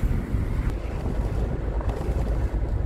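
Steady wind of about 15 knots roars and buffets the microphone with a heavy low rumble throughout, loud and continuous, with no voices.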